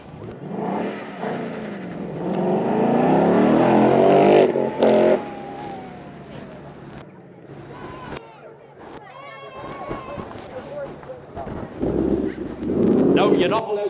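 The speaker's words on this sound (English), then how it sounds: "your RTR Mustang 5-litre Coyote V8 in this 500 horsepower" An RTR Spec 2 Mustang with a 500-horsepower 5-litre Coyote V8 revs and drives past at a supercar show event, its engine note rising and swelling, with an announcer talking over it.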